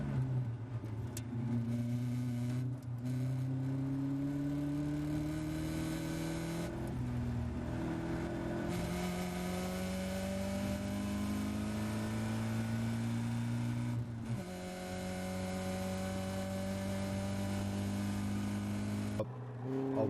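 A Caterham race car at Oulton Park is heard from on board, its engine revving hard through the gears with rising pitch sweeps, brief dips at each shift, and a steady loud drone throughout.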